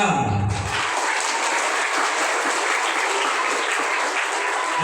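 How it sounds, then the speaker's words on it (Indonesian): Children at an elementary school religious gathering break into loud, close applause that carries on steadily for several seconds after a brief voice at the start. "berikan tepuk tangan dong"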